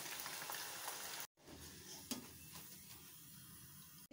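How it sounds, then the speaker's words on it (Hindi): Potato chips fry in hot oil, a continuous close bubbling sizzle with a brief dropout partway through, fairly quiet overall. "इसी तरह सारे चिप्स फ्राई कर लें"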